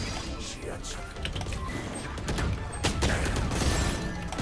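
Rapid gunfire and clattering weapon effects from a Valorant match, dense bursts running throughout with louder shots toward the end, mixed with game noise and faint voices in the background.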